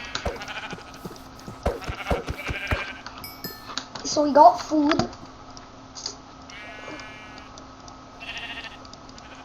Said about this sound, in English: We're gonna have to kill the sheep.